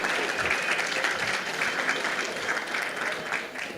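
A large conference audience at Ethereum Argentina 2024 applauds continuously, loud, dense clapping that holds steady for several seconds without a break.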